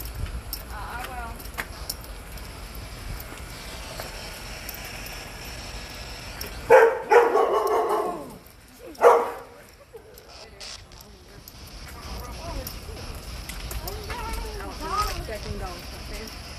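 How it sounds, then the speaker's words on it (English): A dog barks a few times at a distance during an evening outdoor scene, two sharp loud bursts standing out midway while people talk on and off around it. "I heard a dog."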